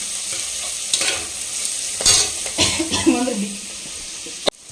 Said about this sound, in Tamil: இப்போ நல்லா வெங்காயம் வந்து வதங்கிடுச்சு.